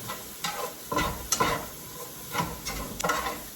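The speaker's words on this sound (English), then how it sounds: "I'm just gonna let those saute for a few minutes in the pan." Vegetables sauté in a hot pan with a steady close sizzle, broken by several soft scraping stirs at irregular intervals.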